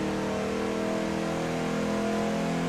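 A Ford Ranger Raptor's engine accelerates hard in Forza Horizon 4, a loud, steady, close droning roar with layered harmonic tones that hold evenly throughout.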